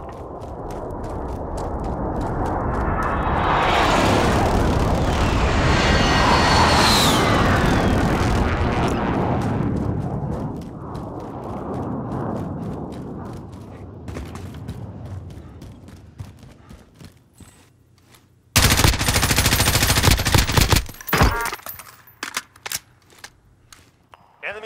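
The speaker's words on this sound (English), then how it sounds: "Precision airstrike, get down!" A video game precision airstrike brings a roaring aircraft pass that swells loudly, then fades. Later come bursts of harsh, crackling gunfire and blasts, with no talk over them.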